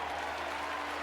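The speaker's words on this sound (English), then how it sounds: "300 pairs of hands ring out in applause" Crowd applause in the video game TEMPEST, a dense, steady wash of many hands clapping at once, sustained and fairly distant.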